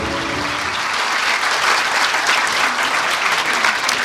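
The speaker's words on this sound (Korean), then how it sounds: "귀중한 말씀해 주신 대통령님께 다시 한번 뜨거운 박수 부탁드립니다" An audience of senior public officials gives the South Korean president a warm round of applause, a dense, sustained roar of many hands clapping evenly from start to finish.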